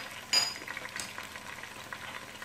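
Chicken frying in a pot until golden for a kabsa, a soft steady sizzle and crackle with a brief clink of a utensil near the start, fairly quiet and without talk.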